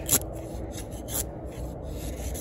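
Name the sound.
Cold Steel Woodsman's Seax knife carving wood curls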